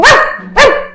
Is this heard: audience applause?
no